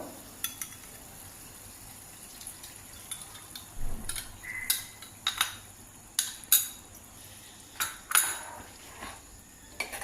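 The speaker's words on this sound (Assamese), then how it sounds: "এতিয়া লাহে লাহে লৰাই দিম, যাতে মিলি যায় আৰু গোটেইখিনি।" Matar paneer curry with cream stirred in a pan: a quiet bubbling simmer broken by a series of sharp clinks and scrapes of a spoon against the metal pan, close by, with no talking.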